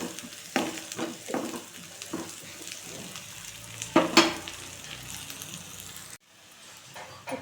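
Garlic is added to a pan of half-cooked egg and onion and sizzles steadily, with scraping stir strokes and occasional clinks of a utensil against the pan before the sound drops off abruptly.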